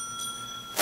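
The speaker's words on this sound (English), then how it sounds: "can I hear the bell there, timekeeper?" A debate timekeeper's bell gives one bright, ringing ding that sustains with a clear tone, followed by a short burst of noise at the end, with no talking.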